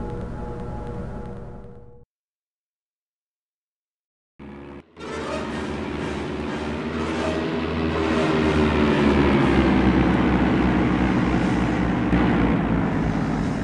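Propeller airplanes flying in the Indiana Jones and the Emperor's Tomb video game give a loud, steady engine drone. It starts after a short cut to silence and swells over a low rumble with no talk.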